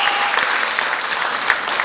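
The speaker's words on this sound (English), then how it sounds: "Clap your hands unto the Lord for His praise." A church congregation clapping their hands in praise during a Sunday service, dense, steady applause from many people throughout, loud and close with no pauses.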